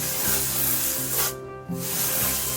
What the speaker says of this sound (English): let's go ahead and spray first this time